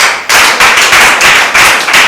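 A church congregation claps in praise, loud, quick, evenly spaced hand claps pulsing about three or four times a second with no voices.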